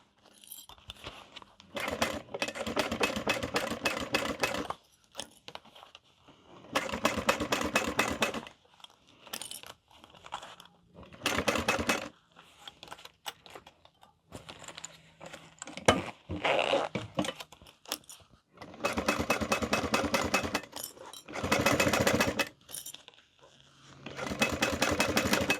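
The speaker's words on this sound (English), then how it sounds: "We are still stitching this." A sewing machine stitches a crossbody bag in several bursts of fast, close mechanical clatter, separated by pauses and small handling noises.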